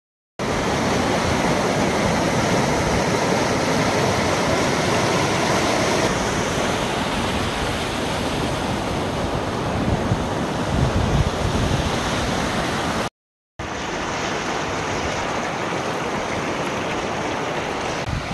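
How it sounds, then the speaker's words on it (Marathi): Chorchavdi waterfall at Dahivad, Deola, flowing with a steady, loud, broadband roar of rushing water that continues without a break and carries some wind buffeting on the microphone. "चोर चावडीना धबधबा."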